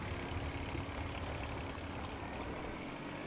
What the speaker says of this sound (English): I can hear my little tractor, and I wonder, why is there a tractor?